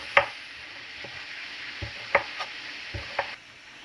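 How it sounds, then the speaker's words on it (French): A knife cutting through a tomato on a board, a few sparse, soft clicks and taps spread unevenly over several seconds, close but quiet, with no talking. "this is the perfect time to slice my tomato"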